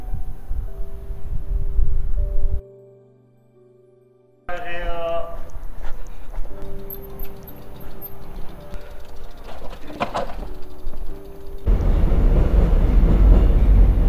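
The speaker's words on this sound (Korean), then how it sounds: "지하철이 지나갑니다." A Seoul Line 4 subway train passes near Danggogae Station in Sanggye-dong's alleys, a loud, heavy rumble with rattling that swells strongly toward the end, broken by a brief abrupt silence early on.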